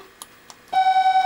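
A multimeter continuity beep as probes touch a circuit board trace, preceded by two faint taps of the probes, then a steady, loud electronic tone.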